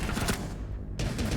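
Gunfire in the tactical shooter Rainbow Six Siege, a dense burst of rapid shots with heavy recoil that fills the clip, briefly thinning in the middle before resuming loud and close.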